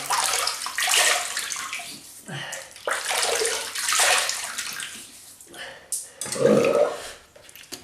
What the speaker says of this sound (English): I'm just going to wet the face because it's been a while